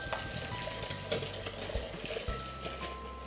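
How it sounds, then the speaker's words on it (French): Quiet, close scraping and swishing as a spoon stirs cream around a saucepan in repeated strokes, over a faint steady hum. "vous y allez, vous remuez bien"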